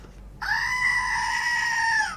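A single goat bleat sound effect rings out as one loud, sustained, wavering cry lasting under two seconds, heard alone over a faint background hiss.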